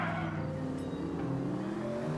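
Car driving in the 1940s Los Angeles crime game L.A. Noire, a steady engine drone with tonal hum and road rumble that holds level throughout, close and alone without speech.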